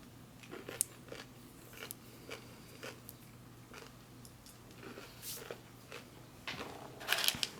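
Quiet crunching of M&M candy from a Long Range Patrol MRE ration, close irregular bites and chewing with soft crackles, no talking.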